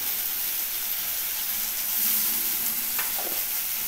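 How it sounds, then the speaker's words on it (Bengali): Fried pepper and chopped green chilli sizzling hard in oil for egg butter ghugni, a dense close frying hiss held steady throughout with faint stirring, no talking. "ঘুগনিতে সবসময় ভাজা মরিচ আর একটু লঙ্কার কুচি অ্যাড করে নিচ্ছি।"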